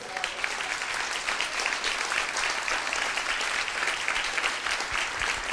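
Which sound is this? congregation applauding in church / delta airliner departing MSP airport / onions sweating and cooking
congregation applauding in church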